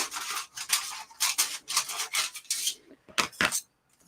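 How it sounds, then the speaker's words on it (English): Scissors cut through thin metal foil for a model aircraft wing in a steady run of close, crisp snipping and crinkling strokes that end with two final snips. "just square up this bit of foil with some scissors"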